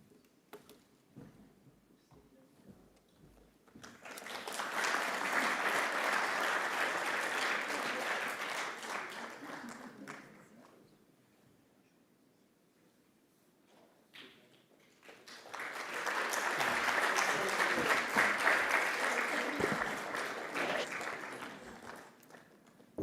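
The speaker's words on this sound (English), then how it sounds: "Big round of applause again." Audience applause at a United Nations meditation event, two long waves of clapping, each swelling and fading over several seconds, moderately loud with a quiet gap between them and no speech.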